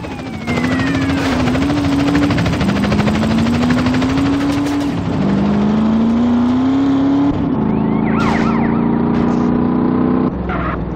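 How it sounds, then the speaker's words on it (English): Helicopter in GTA San Andreas chasing another chopper along a freeway, a loud steady rotor drone with a whining engine tone that shifts in pitch, joined by brief whooshes and small bursts near the end. "The helicopter follows the freeway"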